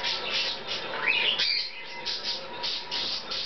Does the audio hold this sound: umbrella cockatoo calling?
yes